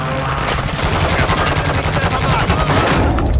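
Rapid automatic gunfire from the Warzone video game, dense repeated shots running continuously at close range, loud and steady throughout with a faint voice underneath.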